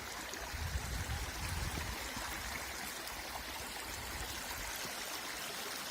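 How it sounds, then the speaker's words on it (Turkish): Clear stream water flowing over a natural bed outdoors, a steady, close babbling wash that holds even throughout with no voices. "Gördüğünüz gibi ne kadar güzel akıyor. Suyun güzelliğine bakın."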